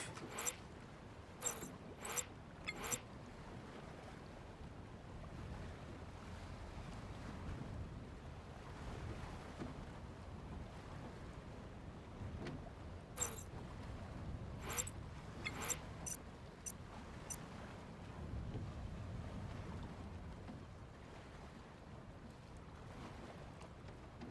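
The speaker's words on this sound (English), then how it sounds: "It worked! We survived the waves!" Boat rocking on ocean waves in the Leisure Suit Larry: Wet Dreams Dry Twice game, a steady low rush of water and wind with sharp creaks or splashes scattered throughout, and no talk.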